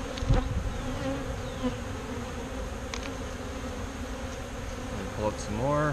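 Steady, dense buzzing of many honeybees up close during a top bar hive inspection, with occasional light knocks and rustling.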